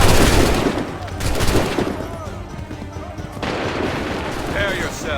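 A volley of musket fire in Assassin's Creed III booms loudly at the start, then scattered shots and rumbling blasts continue amid battlefield noise while voices shout orders.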